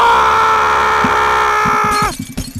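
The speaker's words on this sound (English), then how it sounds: "Stop screaming, Josh!" A cartoon character in the Happy Wheels ragdoll video game lets out a long, loud sustained scream lasting about two seconds, then it cuts off abruptly into game noises and thumps.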